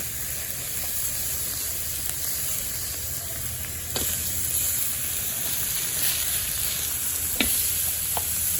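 Food sizzles steadily on an outdoor griddle, a continuous frying hiss with a few brief clicks and scrapes, fairly close and unbroken by voices.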